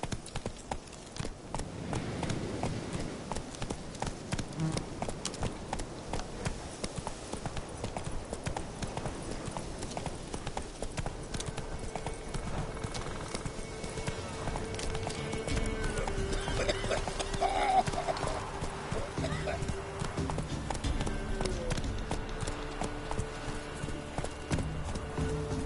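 Roach the horse gallops across a video game landscape, with rapid, steady clip-clopping hoofbeats close up throughout, layered over faint ambient game sounds.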